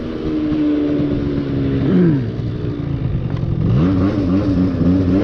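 A Yamaha Zuma scooter engine holds a slow wheelie, a loud, close, continuous buzzing drone whose pitch dips and then climbs as the throttle eases off and opens again, with no talking.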